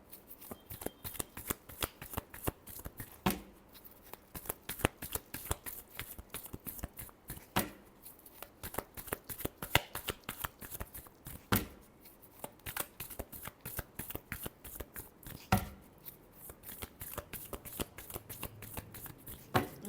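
Tarot cards being shuffled by hand, a rapid continuous riffle of crisp flutters and taps at close range with occasional sharper snaps, quiet and without speech.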